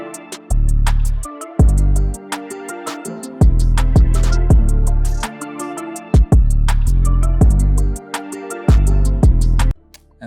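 Guitar melody layered over a heavy beat in an FL Studio production, with punchy booming kicks and sharp rhythmic hits under a plucked repeating melodic line, loud and steady with no talking.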